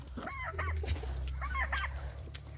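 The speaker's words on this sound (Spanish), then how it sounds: "Y la gallina está comiendo." A hen clucks while feeding, two short bursts of close, throaty clucking over a steady low hum, with no talking.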